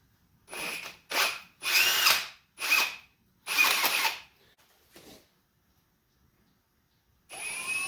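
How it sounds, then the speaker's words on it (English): A Ryobi power drill whirs in several short bursts of varying length, drilling into wood for a knife box, with brief pauses between, then stops before one more burst starts at the end. "I got a drill bit it is too small for my brace, so I'm going to use the Ryobi"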